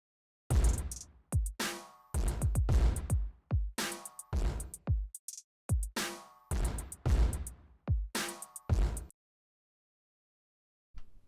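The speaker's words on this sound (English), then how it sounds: "And this is what all the drums sound like together." Produced drum beat with punchy kicks, snares and hi-hats, in the style of a hyperpop type beat; loud rhythmic hits pattern for about nine seconds, then stops to near silence.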